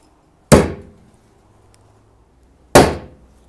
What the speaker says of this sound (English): then we just tap those in with a plastic hammer.